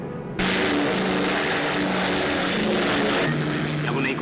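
Airplane engine drone in flight from a 1978 Italian film scene set over the Bermuda Triangle, a loud steady roar with a faint tonal hum filling the whole clip after a short quieter opening, with dialogue in the scene.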